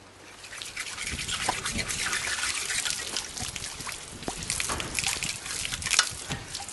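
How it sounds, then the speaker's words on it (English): Rainwater poured out to rinse garden tools outdoors on a rainy day, a steady trickling, splashing gush with scattered drips, fairly close and continuous throughout. "we still have plenty of rainwater, and this is what we use to clean tools with"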